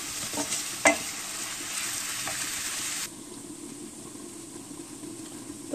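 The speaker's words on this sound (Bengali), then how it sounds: "আমার পেঁয়াজ গোল্ডেন ব্রাউন হয়ে গেছে এখন লাড়মু লাড়ি আস্তে আস্তে" Onions browning with garlic powder in a pan, sizzling steadily while being stirred, with a sharp utensil scrape early on; the frying hiss drops noticeably partway through.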